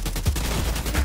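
A quick burst of rapid automatic gunfire in the shooter video game The Division 2 sounds loud and close. Several sharp shots come in fast succession within about a second.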